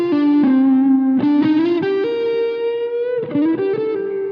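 Distorted electric guitar lick laced with small quarter-step string bends, with sustained, slightly wavering notes and effects coloring the tone; loud and close, with no talking.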